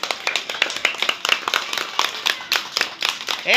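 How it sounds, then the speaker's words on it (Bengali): Children clap their hands in an uneven, quick patter of sharp claps, close and fairly loud, with no talking over it. "হাততালি দে না।"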